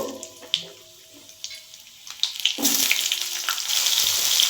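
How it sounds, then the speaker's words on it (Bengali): Potatoes go into hot oil in a pan already holding dried red chillies, bay leaves and five-spice, on the way to a Bengali fish curry with winter vegetables. A few faint taps and clinks come first, then a loud, steady sizzle rises and stays. "এবার আমি সবজিগুলো ভেজে নেব প্রথমে আমি দিয়ে দিচ্ছি আলু"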